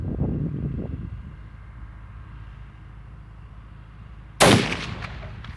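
A single sharp long-range rifle shot cracks out toward a target after several seconds of quiet wind and low rumble, loud and close with a short ringing decay.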